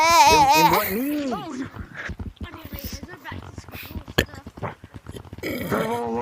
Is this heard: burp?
yes